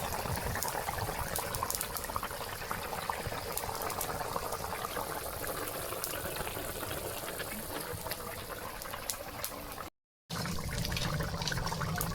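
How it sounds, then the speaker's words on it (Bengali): Water poured into a reddish fried fish curry in a pan, a steady bubbling, gushing liquid sound that runs loud and continuous throughout, with a brief cut near the end. "এখন জল দিয়ে দেবো।"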